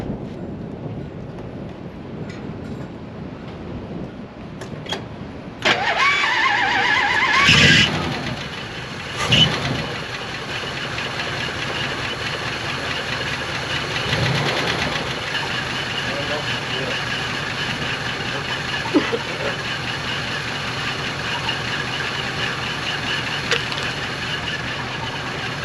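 A 1956 Chrysler Windsor wagon's 354 HEMI engine cranks and catches, then settles into a rough, steady idle with a faint lifter tick, near and continuous, with a few clanks and thumps early on.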